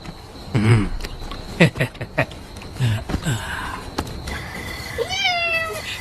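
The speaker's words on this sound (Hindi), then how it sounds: "दूसरी बिल्ली" A cat meows several times, short and fairly close, with a rising, drawn-out meow near the end over faint background noise.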